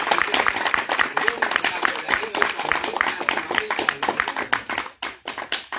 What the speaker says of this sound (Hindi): आप सभी के लिए मैं चाहूंगा कि एक बार जोरदार तालियां आप सभी के लिए दीजिए, और जोर से तालियां जरा बनाइए, जोरदार